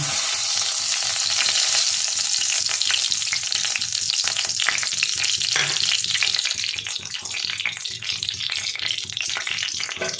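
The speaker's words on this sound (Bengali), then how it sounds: "শুকনো লঙ্কা ফোড়ন দেবো।" Dried red chillies fry in hot oil in a pan after shrimp, giving a loud, continuous crackling sizzle with steady spitting. The cooking noise is close and fills the whole stretch, with no speech over it.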